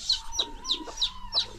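A hen on a rural farm clucks in five short, sharp bursts at an even rhythm, close and fairly loud, with a faint steady hum behind.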